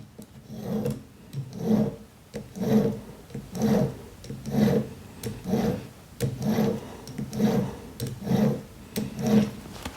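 A metal graver being shaped and polished on a finer sharpening block gives rhythmic rasping strokes, about a dozen back-and-forth scrapes in a steady, even pace, close and fairly loud with no talking.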